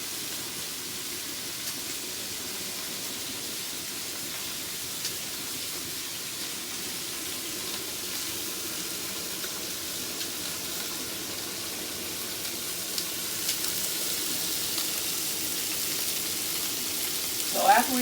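Cellophane noodles frying in hot oil give a steady, even hiss of sizzling that runs unbroken and fairly close, with a faint clatter near the end.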